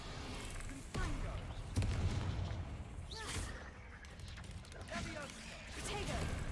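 Confringo fire spell blasts in Hogwarts Legacy, a handful of sharp explosive thuds and crashes spaced through quiet combat sounds and short vocal cries.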